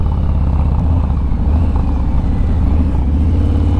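A 2020 Harley-Davidson Low Rider S with the 114 motor rumbles steadily and loudly up close, its deep throbbing engine note holding constant throughout.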